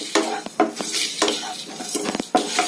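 Ingredients for temple-style pulihora are dry-roasted in a pan, with a spatula stirring and scraping in quick repeated strokes over a soft sizzle, close and fairly loud.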